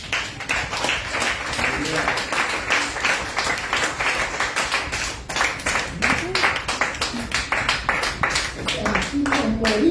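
A church congregation claps during a sermon, with loud, rhythmic hand clapping in time over several seconds, mixed with shouting voices and murmured talk.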